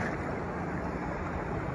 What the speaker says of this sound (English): here comes another wave